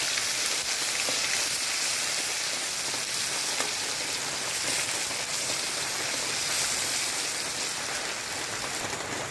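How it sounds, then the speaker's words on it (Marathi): Green paste of ginger, chili, garlic and coriander frying in a pan, a loud, dense, continuous sizzle that stays even throughout, close by and without talk. "वाटण छान परतून घेऊया"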